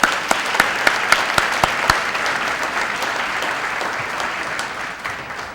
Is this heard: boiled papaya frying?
no